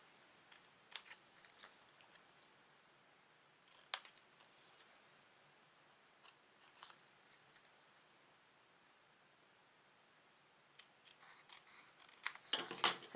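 Scissors snipping paper craft pieces for a seaside holiday coaster holder, quiet and close, with sparse isolated cuts spread out and then a louder cluster of snips and rustling paper near the end, no talking.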